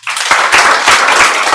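A loud, brief burst of audience applause, with many hands clapping at once in a dense, even wash that stays steady for a moment.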